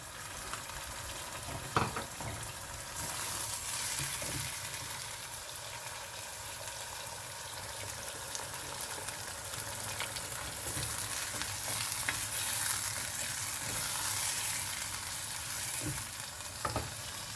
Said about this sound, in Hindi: हमारा चिकन थोड़ा सा फ्राई हो गया है